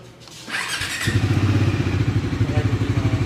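A 2026 Bajaj Dominar 400 fuel-injected motorcycle fires up from neutral with a single starter click, a brief whir catching into a loud, close, pulsing idle that settles into a steady throbbing beat.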